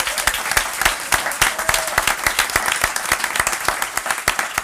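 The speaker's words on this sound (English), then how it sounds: "I want a big applause for Peter, because he's the leading guy" An audience at a panel forum at the Ljubljana Coffee Festival 2024 applauds a speaker, steady dense clapping from a moderately sized crowd sustained throughout, fairly close and even in loudness.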